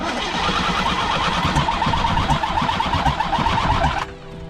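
An engine turns over on the starter with a rapid, rough, continuous churning for about four seconds, loud and close, then cuts off.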